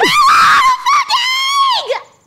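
A person screams loudly and close, one long strained cry broken into a few bursts, rising and falling in pitch before trailing off.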